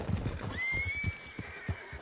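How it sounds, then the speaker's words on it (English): A horse in a video game whinnies once, a clear rising then sustained neigh, close and loud, with faint hoof clip-clop around it. "Hey, that's a nice-looking horse you have there."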